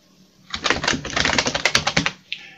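Rapid clacking keystrokes on a CP/M computer keyboard come in a quick, close run of sharp clicks lasting about a second and a half, followed by a single later tap.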